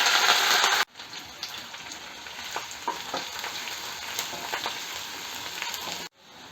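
Onions and curry leaves sizzling in hot refined oil in a pan, a steady close crackle and hiss with occasional sharper pops, alone throughout.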